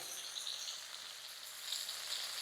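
Paneer cubes frying in oil or butter in a pan over a low to medium flame make a steady, even sizzle that hisses on without a break.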